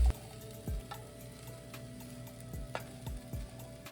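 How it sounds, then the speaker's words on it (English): Mixed vegetables and tempeh sautéing in coconut aminos, a steady close sizzle broken by a few soft stirring scrapes and knocks. "I'm just doing some meal prepping, sauteing up mixed veg, tempeh with coconut aminos."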